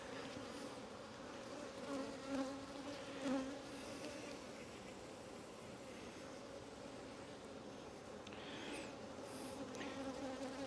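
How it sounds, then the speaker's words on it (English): Many worker honey bees buzz inside a hive box, a soft continuous droning hum with slight swells, steady throughout. "There's a ton of bees in here."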